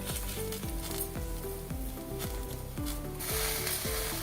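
Washed rice tipped into a pan of sautéed vegetables and masala for Maharashtrian wedding-style masale bhaat, sizzling steadily as a broad hiss under a prominent melodic music track.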